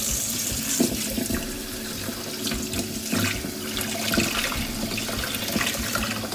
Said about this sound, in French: une fois que le kéfir vous l'avez retiré, vous le rincez à l'eau froide